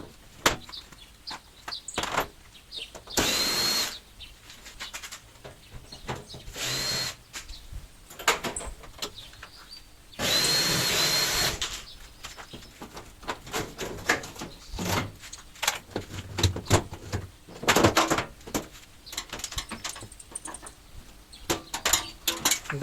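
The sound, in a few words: removing washing machine door and front panel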